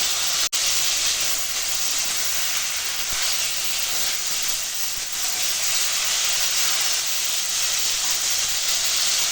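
A loud, continuous steamy hiss from a very hot wok, broad and unbroken, with one sharp click near the start.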